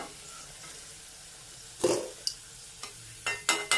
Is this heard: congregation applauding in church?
no